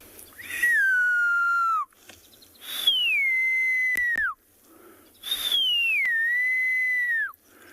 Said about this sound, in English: is a very long, drawn-out call